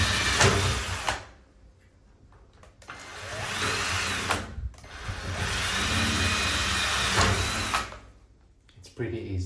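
A power drill bores holes in an aluminum glass shower profile in three long, loud bursts of whining, grinding drilling with short pauses between them, recorded up close.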